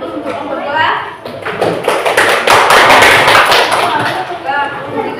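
A group claps at a primary-school class session, a loud burst of applause that swells and fades across several seconds.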